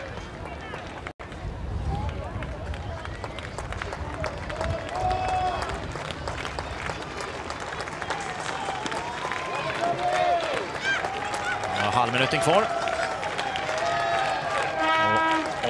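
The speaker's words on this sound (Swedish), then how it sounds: "AIK-fansen applåderar sina tjejer." AIK supporters applaud their girls' team at a Gothia Cup 2013 youth football final, a steady wash of crowd clapping that runs throughout beneath a speaking voice.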